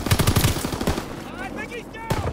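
Rapid anti-aircraft gunfire rattles at enemy recon aircraft in Call of Duty WWII, on a Shadow War Chancellery map, with a fast burst up front, lingering rumble, then another shot, while a game voice speaks over it.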